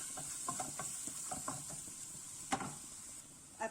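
Grated garlic in olive oil sizzles faintly in a frying pan, a soft steady hiss broken by light taps and scrapes of stirring.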